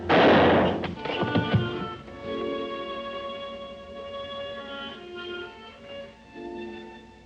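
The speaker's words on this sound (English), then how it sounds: "She shot herself." A single loud, close gunshot-like bang from a 1953 TV crime drama opens the scene, followed by a ringing decay and tense orchestral music.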